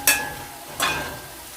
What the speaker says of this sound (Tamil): இப்போ இதை நல்லா மிக்ஸ் பண்ணி விடுவேன்.